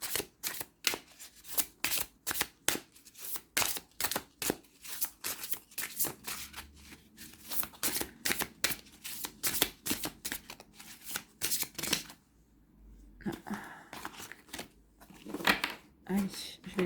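Oracle cards, a guardians of light deck, are shuffled by hand in rapid, crisp riffling bursts that pause briefly and then resume, close and clear with a voice speaking faintly under them.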